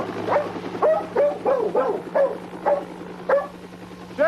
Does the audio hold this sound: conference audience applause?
no